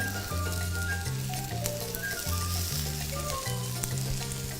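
Prawns laid straight into a hot pan, restaurant-style, fry with a continuous bright crackling sizzle, quiet and steady throughout, over faint low background music.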